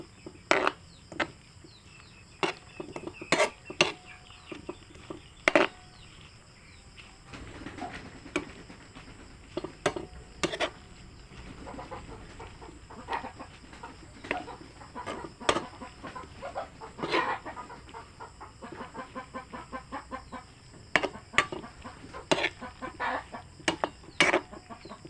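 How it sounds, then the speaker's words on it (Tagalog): Backyard chickens cluck and squawk in sharp, irregular bursts through a long stretch, fairly near and loud against a quiet background, with no talk over them. "Pasensya nyo yung mga manok."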